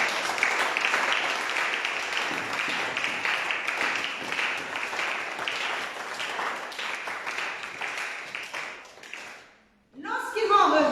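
A church congregation applauding in a dense, steady wash of clapping that fills the room, then fades to a brief silence before a voice starts up at the end.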